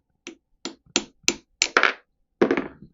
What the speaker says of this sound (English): I'm just going to tap this in, and then we'll just to seat everything, line everything up.